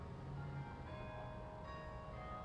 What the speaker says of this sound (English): You maybe can hear it as the bells are kind of tolling